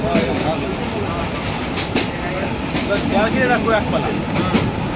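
A passenger train in Bangladesh runs along its rails with a steady, loud rumble and a rhythmic clickety-clack, with a voice faintly audible over the noise.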